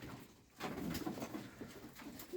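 Soft, low cooing of pigeons against a faint background hum, steady and fairly close.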